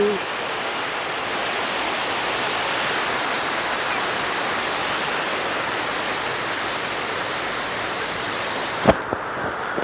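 Steady broadband roar of surf rolling onto Cha-am beach in Thailand at evening, continuous and fairly close, ending in a brief thump and near-silence near the end.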